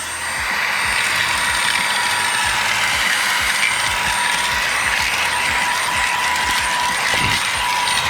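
Fanttik Slim V10 Mix compact cordless vacuum running on its low setting while sucking up dirt sprinkled on a surface, a steady whine with rattling crackles from debris being pulled in.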